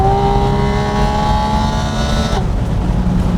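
A Can-Am Spyder RS three-wheeler's engine screams near 9,000 rpm on an unrestricted Black Forest road, a loud sustained high-pitched whine that drops sharply as the throttle lifts.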